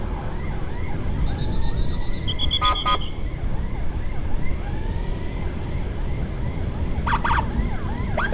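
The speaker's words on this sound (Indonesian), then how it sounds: "Kita agak jauhan sedikit ya dari ambulan." An ambulance siren wails continuously during a busy Lebaran holiday traffic escort in Indonesia. The siren is loud and close over steady road and engine noise, with repeated sharp electronic yelps cutting through.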